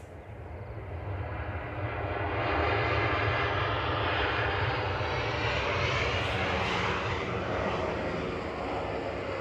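Ryanair Boeing 737-800 from Dublin on short final to runway 05 at Manchester Airport, a steady loud jet engine roar that swells and holds as it passes close by, with no talk.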